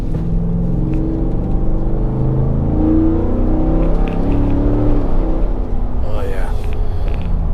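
Deep, steady V8 rumble from a 2022 Ford F-150 Roush Performance Edition with its 5.0-liter engine and Roush Performance exhaust, droning continuously close by under a man's brief spoken exclamation.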